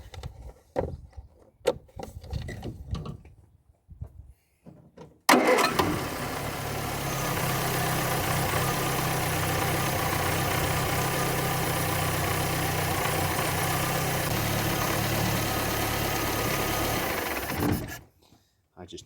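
A Ford Fiesta Mk1 engine with suspect ignition components starts abruptly after scattered handling noises, then runs at a steady, loud, rough idle for about twelve seconds before being switched off.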